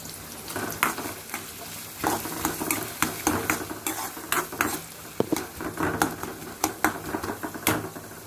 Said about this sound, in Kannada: ಡೈರೆಕ್ಟಾಗಿ ಈರುಳ್ಳಿ ಹಾಕ್ತಾಯಿದ್ದೆ ನೋಡಿರಿ ಇದೊಂಚೂರು ಫ್ರೈ ಮಾಡ್ಕೊಳ್ಳೋಣ